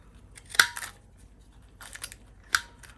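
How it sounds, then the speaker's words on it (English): Scissors snip through wax paper and cardstock in two sharp, separate cuts, close and crisp, with quiet rustling between them. "just get my scissors and go ahead and cut it"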